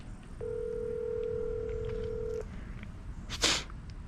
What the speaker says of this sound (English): See if he'll actually answer his phone.